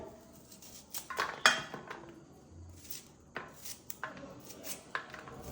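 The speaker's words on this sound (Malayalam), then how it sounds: "കുറച്ച് വലിയ കഷ്ണാക്കി തന്നെ അരിയാം" A knife chops coriander leaves into coarse pieces on a board in a home kitchen: irregular, close, crisp taps and clinks with no voices.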